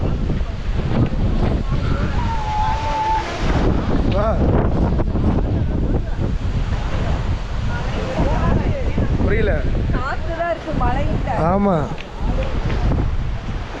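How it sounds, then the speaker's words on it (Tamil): Strong monsoon wind roars steadily into the microphone at Amboli waterfalls, a loud, constant buffeting rush that covers the whole scene, with people speaking and calling out over it. "காற்று தான் பயங்கரமாக அடிக்குது"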